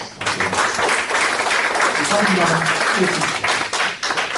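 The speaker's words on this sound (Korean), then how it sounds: "주님의 이름으로 환영하면서 환영의 박수를 하겠습니다" A church congregation claps in welcome during a Sunday worship service, a short burst of brisk, close hand clapping that holds steady for a few seconds and then tapers off.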